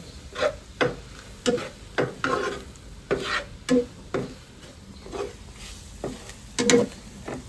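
Chicken fries in a pan while being stirred, with repeated scraping strokes at an uneven rhythm over a light continuous sizzle, close up with no talk.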